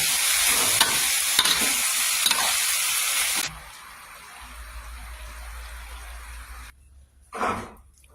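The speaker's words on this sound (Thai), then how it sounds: "เสร็จแล้วใส่ใบมะกรูดลงไปค่ะ เพิ่มความหอม ผัดให้เข้ากันค่ะ" Stir-frying in a pan with kaffir lime leaves added, a loud close sizzle with stirring scrapes that drops off suddenly to a quieter hiss, then a short clatter.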